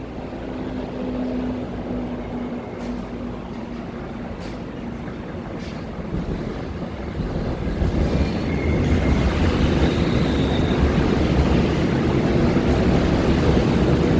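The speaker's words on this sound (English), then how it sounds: "The train is now approaching." A train approaching a station rumbles steadily with low, broad noise that grows louder partway through, with faint high squeals and clicks over the drone.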